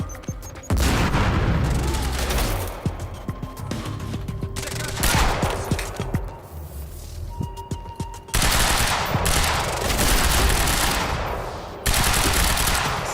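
Loud machine-gun bursts and heavy blasts including a grenade explosion in Quantum Break, several sharp booms and rattling fire in stretches separated by brief lulls.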